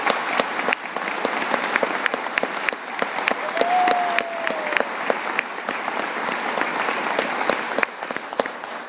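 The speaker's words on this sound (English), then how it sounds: "Let's give them a big round of applause." Crowd applause at a July 3 gathering, sustained and dense clapping from many hands that holds steadily for the whole stretch, with a brief whistle partway through.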